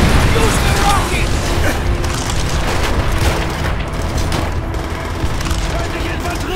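Battle din from Call of Duty: World at War as a Panzerschreck rocket launcher is fired, with booming blasts and rattling gunfire layered in a dense, continuous barrage under shouted voices.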